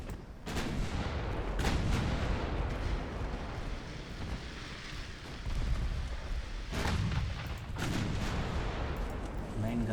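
Heavy cruiser 9-inch guns fire in a naval battle game, booming in several heavy separate blasts with rolling low rumble between them, loud and close, with a few sharper cracks spaced across the stretch.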